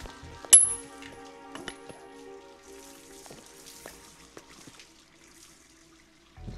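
In the video game Hitman, a thrown coin strikes the floor with a sharp metallic clink, followed by a few faint ringing bounces and settling ticks over a quiet background.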